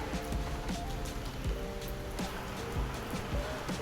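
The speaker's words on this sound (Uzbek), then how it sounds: "Yomg'irga qaranglar." Rain falls outside a shopping mall in China, a steady wash of downpour with scattered sharper drips and splashes throughout, close and fairly even in level, with no voices.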